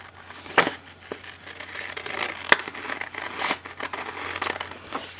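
Paper for a printable mat template being trimmed with a cutter, giving a few sharp cutting snaps and soft crinkling rustles at a close, moderate level with no talk.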